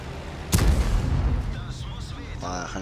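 A single heavy tank gun shot from a video game, a loud sharp boom with a rumbling tail as the round hits another tank, followed by softer game sounds and some mechanical noise.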